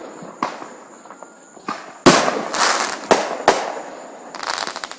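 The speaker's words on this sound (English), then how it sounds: "so all these fireworks is for the kids" Outdoor fireworks at a Florida neighborhood celebration burst in sharp, loud cracks and pops, several close blasts with crackling tails over a steady insect chirr.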